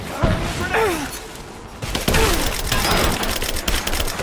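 Shotgun blasts and heavy gunfire in the Rise of the Tomb Raider video game, loud booming shots and rapid fire with thuds, while a player voice talks briefly near the start.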